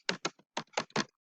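Keys on a computer keyboard are pressed in a quick burst of five or six crisp, close clicks over about a second, with short gaps between strokes.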